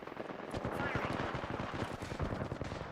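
Rapid automatic gunfire from close-range weapons in the battle royale game Apex Legends, a dense continuous burst of shots over nearly three seconds with game effects layered in.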